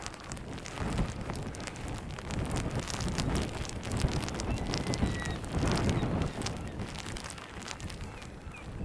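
Rain patters steadily on an exposed barrier at Hodbarrow nature reserve, Millom, while gusts of wind buffet the microphone in rough, uneven bursts, with no voices.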